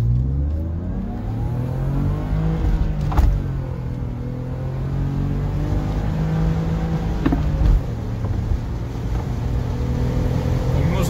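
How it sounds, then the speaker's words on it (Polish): A BMW's 2-litre inline-six engine runs and revs, holding a steady droning note that rises and falls with each rev, with a few sharp knocks mixed in. "Zatrzymaliśmy się, żebyście usłyszeli, jak to auto pięknie pracuje, bo to jest rzędowa szóstka, mało spotykana już w BMW."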